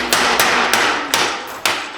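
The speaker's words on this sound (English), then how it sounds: "An example of this style of hammer, this is a Little Giant. This is a 25-pound hammer." Little Giant 25-pound power hammer running, sharp metallic thumps at a slightly irregular, roughly even pace, loud and close with a faint ringing hum between blows.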